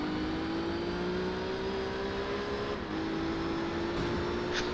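Renault Clio engine racing in Gran Turismo 3, a steady high droning note that climbs, drops briefly at a gear change, then holds on, loud and continuous with no talk.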